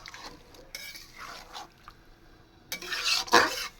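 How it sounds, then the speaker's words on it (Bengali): Ground, processed spice paste with blended onion being stirred in a cooking pot, heard as a few short scraping and rubbing strokes of a spoon against the metal, close by, with a louder burst of stirring near the end. "ভালো করে নেড়ে দেব"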